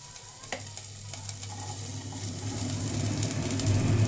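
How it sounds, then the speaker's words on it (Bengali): Chopped onion, a whole one, sizzles in a small amount of oil in a pan, a steady frying hiss that gradually grows louder and fuller, with soft stirring underneath and no talking. "এবার এইটুকুনি তেলের মধ্যে প্রথমে আমি পেঁয়াজটা দিয়ে দেবো।"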